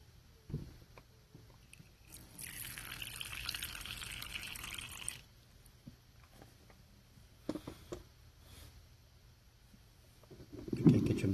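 Water is poured into a tarantula's water dish, a steady trickling pour lasting a few seconds, close and moderately quiet, with small handling clicks before and after and a louder knock at the end.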